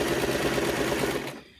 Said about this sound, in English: Regular straight stitch, and we use the edge of the presser foot so that we've got a consistent seam allowance.